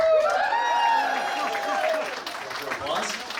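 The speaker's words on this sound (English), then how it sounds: "Applause." Applause from an audience at a 50th anniversary evening event, moderate and fading, mixed with voices and a tonal sweep of music or feedback.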